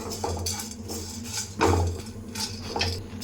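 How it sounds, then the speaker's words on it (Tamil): Fenugreek and curry leaves are sautéed in a pan for a pepper kuzhambu: a spatula scrapes and knocks against the metal in an uneven rhythm, with a louder clatter midway over a low hiss. "இப்போ வதக்கிட்டே இருங்க."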